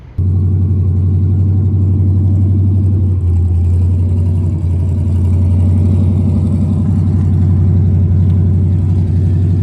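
A 1967 Dodge Coronet's big-block 440 V8, revived after 20 years dormant, runs loud and steady with open headers and no exhaust, a deep pulsing rumble that lasts the whole time with slight rises in revs.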